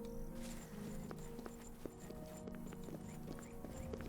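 White stallions at a stable in the Oblivion video game, with hooves clip-clopping in a steady walking rhythm at moderate distance over a constant low ambient hum.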